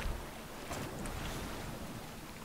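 Muffled, steady underwater wash and low rumble in the Battlefield 4 multiplayer game as a player dives beneath the surface, a continuous watery drone with no talk.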